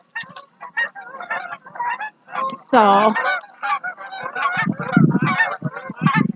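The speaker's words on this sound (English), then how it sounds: "a lot of geese." Geese honk repeatedly in a noisy, overlapping chorus at a winter campsite, nearby and loud, with a brief spoken word in between.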